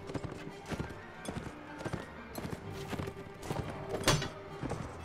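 Horse hooves clip-clopping in Mount & Blade: Warband, a steady run of soft hoof thuds with a brief whinny near the end, set among battle clatter.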